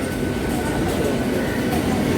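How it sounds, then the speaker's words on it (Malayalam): The Tambaram Express pulls away from Nagercoil station with a steady, loud rumble of wheels and carriages rolling close by, continuous throughout. "അടുത്ത് കിടന്ന നമ്മുടെ താമ്പര എക്സ്പ്രസ് ഇതാ പോകുന്നു"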